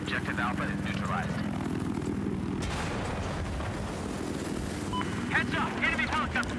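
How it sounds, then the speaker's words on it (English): An enemy helicopter in the video game Battlefield drones steadily in the background while a player talks over it. "Heads up, enemy helicopter."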